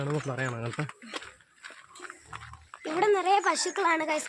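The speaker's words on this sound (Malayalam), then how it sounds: "പന്നികൾ ഇവിടെ" Low pig grunts sound in the background on a farm with cows while people talk nearby, the grunting short and intermittent beneath the voices.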